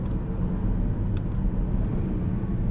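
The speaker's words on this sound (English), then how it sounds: "Let's see a downshift." A 2017 Land Rover Discovery SE rolls slowly through a parking lot in manual paddle-shift mode, heard from inside the cabin as a steady, low engine rumble with no distinct gear change and no voices.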